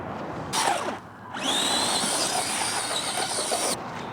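An ARRMA Gorgon RC car tears across a dirt track, its electric motor letting out a loud, high whine that surges in two bursts over gritty wheel noise.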